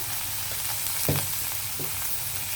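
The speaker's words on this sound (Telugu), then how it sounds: "ఈ అల్లం వెల్లుల్లి పచ్చివాసన పోయేలాగా ఇలా వేగనిస్తే" Ginger garlic paste frying in a pan with turmeric and salt for a jackfruit seed and potato curry: a steady, close sizzle with a few brief stirring knocks.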